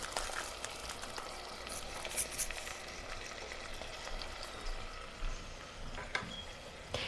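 Shrimp sear in butter in a pan, giving a quiet, continuous crackling sizzle with occasional small pops and no voices.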